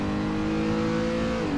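A Renault R.S. 01 race car in Assetto Corsa, lapping the Nürburgring, roars loudly and close with a sustained high-revving engine drone that holds a nearly steady pitch throughout the short burst.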